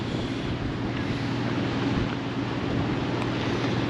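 Strong wind buffets a 2011 Winnebago Sightseer 36V Class A motorhome, a loud, constant roaring rush with heavy low rumble, steady throughout without speech.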